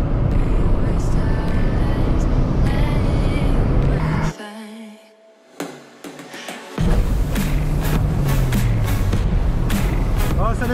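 Peugeot 206 S16 from the 2000s revving and launching over a jump, loud engine noise cutting out abruptly to near silence in mid-air before the car lands and the engine roars again.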